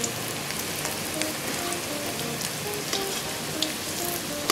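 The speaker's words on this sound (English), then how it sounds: "we're deep frying our money bags" Thai money bag dumplings deep fry in hot oil, giving a dense, even crackling sizzle with scattered pops that stays steady and close throughout, with no talking.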